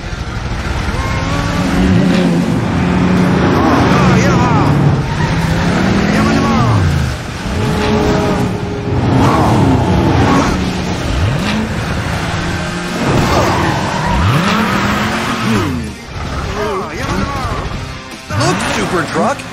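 A toy-like super race truck from a children's emergency vehicle cartoon roars and revs close and loud across the whole stretch, with swooping engine pitch changes and crash-like bumps, mixed with excited voices talking over it.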